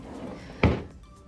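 A cabin drawer aboard a cruise ship slides and bumps shut with a single solid thunk, close and fairly loud against low room hum.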